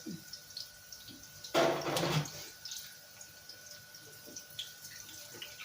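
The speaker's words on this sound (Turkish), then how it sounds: "Ellerimi yıkayın." Tap water runs onto hands at a sink in a home kitchen: a single burst of splashing that lasts about a second, reasonably close, with quiet room noise before and after.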